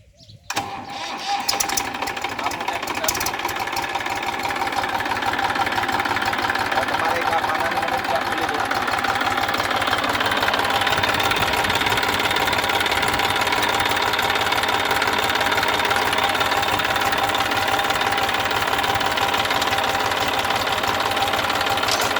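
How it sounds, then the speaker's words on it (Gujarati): Tractor engine starting with a sharp burst, then settling into a loud, steady rhythmic chugging that runs on continuously at close range. "ટ્રેક્ટર ચાલુ કરી દેવાનું છે"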